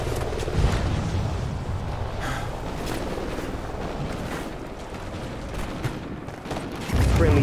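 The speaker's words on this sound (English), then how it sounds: "Friendly Trinity rocket sounded inbound." Continuous barrage of rocket strike explosions and gunfire from Call of Duty: Ghosts in a Cranked match on the Octane map, a dense rumbling wall of blasts and booms that surges louder near the end, with no talk.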